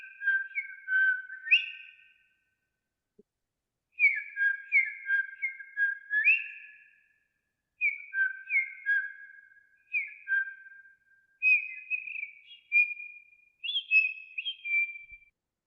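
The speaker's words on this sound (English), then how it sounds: "So now you heard some bird sound." Recorded birdsong played back as a short clip: bright, high chirping phrases in repeated bursts separated by brief silences, clear and fairly faint, with no voices.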